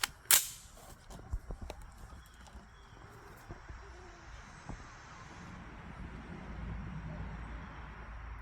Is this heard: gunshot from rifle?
yes